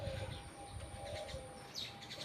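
Faint bird calls and chirps drift in from a distance over a low, steady outdoor hum.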